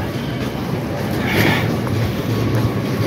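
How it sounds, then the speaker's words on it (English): A train passes with a steady, loud rumbling roar and a brief swelling hiss midway, continuous throughout with no clear speech. "Okay, train."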